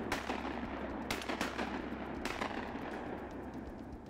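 Sharp shotgun blasts crack out during a waterfowl hunt near Tunica, Mississippi, a couple of quick reports in succession, loud and close in an open outdoor setting, with no talking.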